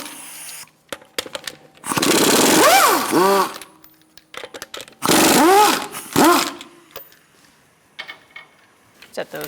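Lug nuts come off a Buick Encore wheel with a 19mm socket on a power tool, two loud rising-and-falling whirring bursts separated by short pauses and small clicks.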